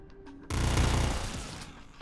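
A beam shotgun firing in the Nuclear Throne video game, a sudden loud burst that cuts in and holds as a dense, crackling blast for about a second before fading.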